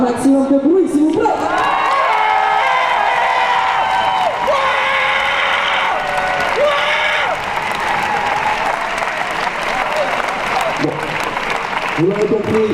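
Loud, sustained cheering, shouting and whooping from a crowd at a left-wing municipal election rally in Brest, with applause underneath and a few high shrill yells standing out throughout.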